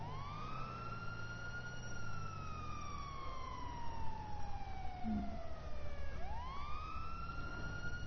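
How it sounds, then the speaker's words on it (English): A police siren in a video game wails with a long falling sweep, then abruptly jumps back up to a rising tone, loud and steady against engine rumble. "Quit trying to fucking blow your sirens at me"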